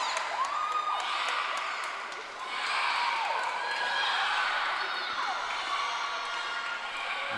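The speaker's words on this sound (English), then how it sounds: "You see Angie and Bridget also cheering on Leah." Teammates cheer from the deck at a high school swim meet, a steady wash of crowd noise with rising whoops and shouts of encouragement sustained throughout.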